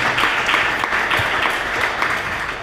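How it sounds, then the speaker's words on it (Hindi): A congregation claps steadily throughout a church sermon, a dense, loud, continuous applause with no break. "आप ताली बजा सकते हैं।"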